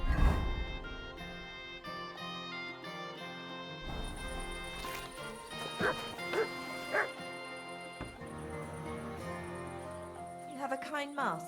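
A dog barks in Kingdom Come: Deliverance II, giving a few sharp yips and woofs midway through and again near the end over steady background music.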